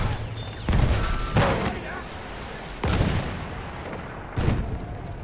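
Machine gun fire crackles in Battlefield 1 in loud, heavy bursts spaced a second or more apart, booming over a constant battlefield din.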